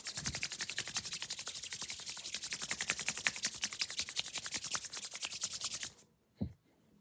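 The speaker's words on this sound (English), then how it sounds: "A little bit of water on my hands." Wet hands rub briskly together during a stretching workout, a fast, steady swishing friction lasting about six seconds before stopping, followed by a soft thump.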